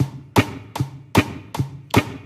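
Guitar strummed in straight eighth notes with all downstrokes, five sharp, evenly spaced strum attacks ringing briefly between hits, played alone and close.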